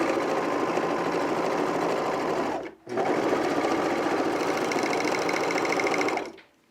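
An overlocker serges a seam on a pullover camp shirt, running in a loud fast continuous whir that pauses briefly midway, then resumes and stops at the end.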